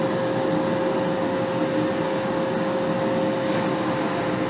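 Miele Blizzard CX1 Excellence Powerline bagless vacuum cleaner runs with a steady, even whoosh and a constant motor whine, close by and unbroken, with no talking.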